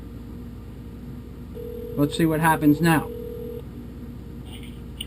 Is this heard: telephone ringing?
yes